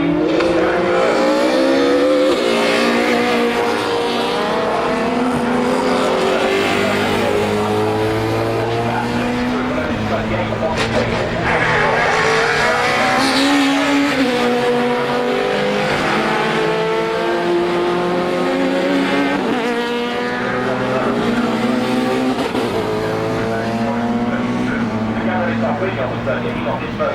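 Touring cars racing at Donington in the 1994 Touring Car World Cup, engines roaring and shifting pitch as they pass, loud and continuous for the whole stretch, with a commentator talking over the noise.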